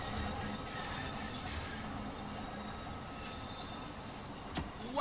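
Steel train wheels squeal in Train Sim World 5 on a London route, a steady rumbling rail noise with thin high-pitched squeal lines running through it, loud and continuous for the whole stretch with no talking.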